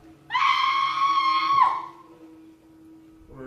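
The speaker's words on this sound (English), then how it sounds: "What is that noise? It is the cry of woman" A woman's long, piercing scream in a stage performance of Macbeth rises sharply and bends downward at the end, followed by a quiet low hum.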